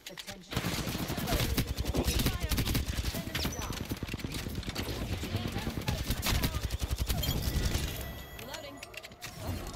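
Rapid bursts of automatic gunfire fill a round of the video game Apex Legends, with dense rattling volleys and scattered single shots over several seconds, mixed with game effects and voices talking.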